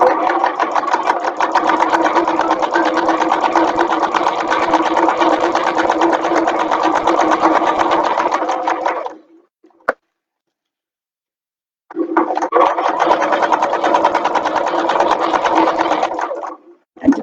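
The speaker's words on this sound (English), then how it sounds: "we're just going to go to the machine now and sew around" Sewing machine stitching around fabric at a seam, a close, fast, even mechanical whir running for about nine seconds, pausing briefly, then starting up again.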